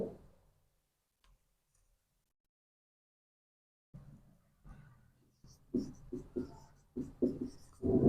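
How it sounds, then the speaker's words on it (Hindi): Numbers are written out during a Class 10 maths lesson on natural numbers: after a few seconds of silence, a run of quick, close scratchy strokes and taps. "तो इसमें लिख लेंगे हम लोग"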